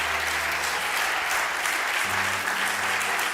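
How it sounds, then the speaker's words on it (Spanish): A church congregation claps for Christ in a steady, dense burst of applause, loud and continuous throughout, with faint low tones in the background. "un aplauso a Cristo"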